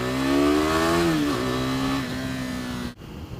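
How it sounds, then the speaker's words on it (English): A Honda single-cylinder motorcycle engine of about 45 horsepower revs loud and close, its pitch rising and then easing back in a steady drone. It cuts off sharply near the end. "that punchy single cylinder engine putting out about 45 horsepower, it's a recipe for fun"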